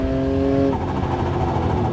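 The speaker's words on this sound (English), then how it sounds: "Yep, that is the sound of a supercharger" A supercharged Theon Porsche 964 (911) engine whirs loudly and close, its steady tonal supercharger whine dropping away partway through into a rough, throbbing engine note.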